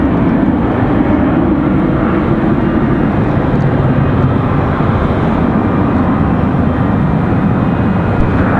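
A Delta 737-900 arriving from Atlanta roars over Raleigh Durham International Airport, a loud, steady jet rumble that fills the whole stretch without pause.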